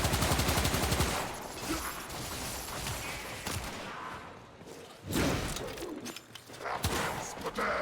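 Knell Prime pistol fire in the Warframe video game: rapid bursts of loud sharp shots in quick succession, a heavy barrage at the start and another midway, with quieter stretches between.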